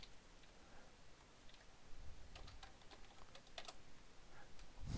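Keystrokes on a computer keyboard, typed in scattered quick bursts rather than a steady run, faint against a low background hiss.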